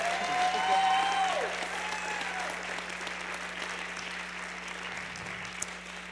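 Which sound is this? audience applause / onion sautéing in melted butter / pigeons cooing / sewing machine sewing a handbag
audience applause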